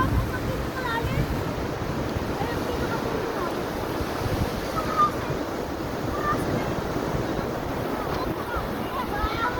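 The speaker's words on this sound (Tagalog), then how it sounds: "Laki ng alon, no? Malalim pa kayo. Yan, bawal maligo. Malakas kasi ang alon." Big waves rolling onto a beach, a constant loud wash of surf with wind buffeting the microphone throughout.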